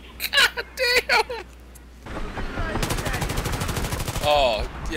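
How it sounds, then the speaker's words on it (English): A short burst of speech gives way to rapid, loud bursts of automatic gunfire aimed at a helicopter in Battlefield 3, rattling on densely for a couple of seconds. "they're shooting at the chopper"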